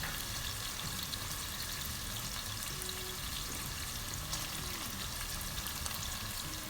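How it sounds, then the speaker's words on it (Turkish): Carrots sautéing in a pan: a faint, steady sizzle and hiss held evenly throughout, with occasional soft stirring touches and no speech. "Havuç biraz sert olduğu için biraz havucumuzu önceden kavurursak çok daha iyi olacaktır"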